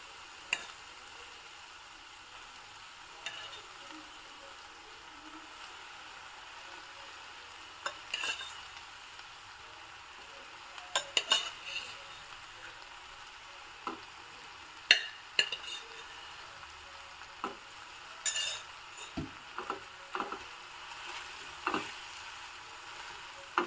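A spoon is stirred through hot cooked rice mixed with spicy methi in a pan, giving irregular scraping taps and soft clinks against the metal over a faint steady sizzle.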